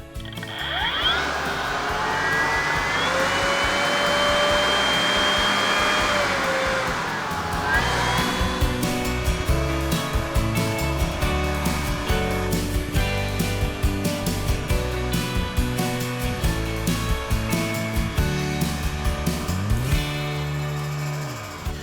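A Cobra BV6040VZ cordless blower vacuum whirs up to speed, its pitch rising into a loud, steady motor and air roar that shifts tone partway through and keeps running close by, with no voices.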